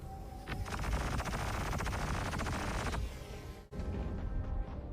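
Sustained rapid gunfire from a Star Citizen ship rattles for about three seconds, then a brief gap and more shooting, loud and continuous with engine hum underneath.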